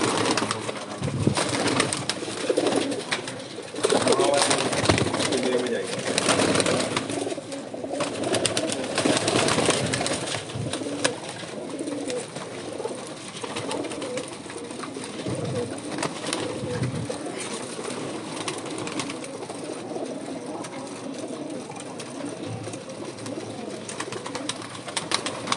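Fancy breeder pigeons in a loft, several birds cooing in soft, repeated throaty phrases that overlap steadily through the whole stretch, close by and fairly loud with no talking.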